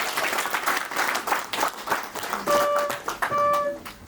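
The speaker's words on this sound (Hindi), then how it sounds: "इसके लिए आपके लिए एक बार तालियाँ।" Audience applause at a retirement function in Shimla, a dense burst of clapping from a gathered crowd, fairly loud and steady for about four seconds, with a few sustained tonal notes, like music or feedback, appearing near the end.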